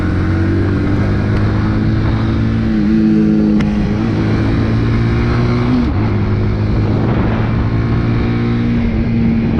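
A motorbike engine revs during a hill start on an incline at the roadside, close and loud, with steady rising and falling pitch sweeps over a constant idle drone.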